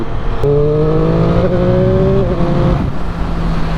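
A 2021 Triumph Street Triple 765RS being ridden, its engine giving a loud, steady drone with a clear pitched note that climbs slightly and then drops away over a few seconds.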